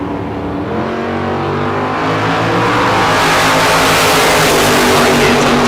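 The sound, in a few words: drag race cars, orange 1967 Chevy II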